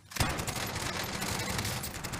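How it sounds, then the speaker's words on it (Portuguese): A video-game gunfight crackles on, with a dense, continuous burst of rapid shots and fire that starts abruptly and keeps a steady, loud intensity. "O cara tá ali fora trocando tiro."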